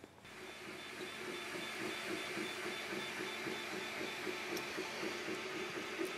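A MakerBot Replicator 2 3D printer runs steadily, its stepper motors giving a continuous whirring hum with a faint rhythmic pulsing throughout, moderately close and unbroken by talk.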